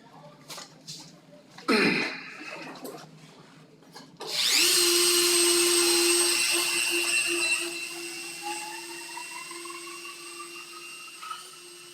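Dremel rotary tool spinning up: after a few clicks and handling noises, a loud steady high-pitched whine starts and holds for several seconds, then eases a little as it keeps running, close to the listener with no talking over it.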